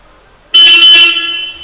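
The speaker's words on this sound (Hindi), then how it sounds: "तो चलिए दोस्तों इसका हॉर्न सुन लेते हैं" Horn of a Royal Enfield Classic 350 motorcycle, 2021 next-gen model, sounding one loud, steady near blast that starts after a short quiet moment and holds to the end without a break.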